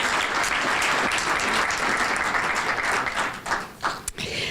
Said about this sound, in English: So if we could have a round of applause for all of these electeds and their representatives